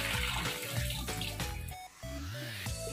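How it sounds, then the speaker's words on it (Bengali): Water runs over raw meat being washed for an outdoor winter family picnic. It sounds like a brief, close, splashing gush that cuts out for a moment before pouring again. "এখানে মাংসটা ধুয়ে নিচ্ছে ভালো করে"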